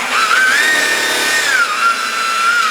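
A power tool buffs a car paint defect with a high, steady whine whose pitch dips briefly partway through, running loud and continuous with no speech.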